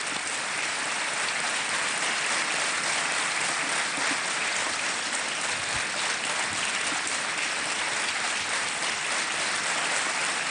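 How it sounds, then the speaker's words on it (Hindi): Studio audience on the KBC game show bursting into sustained, dense applause, a loud even roar of clapping that holds steady from start to finish with no talk. "एक बार जोरदार तालियां बज जाएं इनके लिए।"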